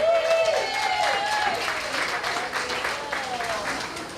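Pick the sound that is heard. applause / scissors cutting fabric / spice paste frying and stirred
applause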